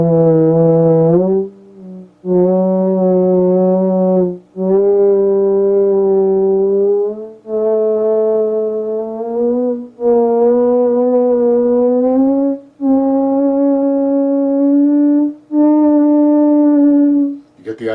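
A Moog Theremini theremin plays a slow rising scale, each smooth sustained tone separated by brief gaps and ending in cleanly articulated notes, loud and alone with no voice.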